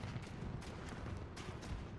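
Far-off gunfire in the PSVR game Farpoint, a few muffled shots and low booms rolling over a continuous rumbling background for two seconds, with no voices.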